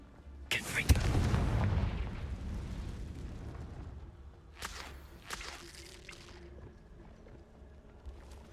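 A Confringo fire spell from Hogwarts Legacy bursts into a heavy, rumbling explosion that fades slowly, followed by a few sharper impact cracks, with a voice over the game audio.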